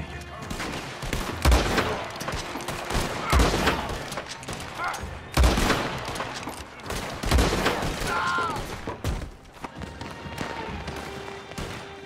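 Gunfire in the video game Red Dead Redemption 2, a loud sustained fusillade of shots with bursts near 1.5, 5.5 and 7.5 seconds, under intermittent talk from players.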